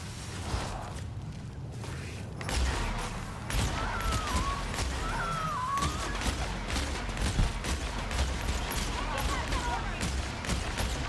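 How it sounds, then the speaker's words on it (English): A semi-automatic weapon with charge-up abilities fires in The Outer Worlds, with sharp repeated shots and bursts of gunfire over a busy game soundscape, mixed with occasional whooshes. "The fact that this is a semi-automatic weapon that has some charge-up abilities"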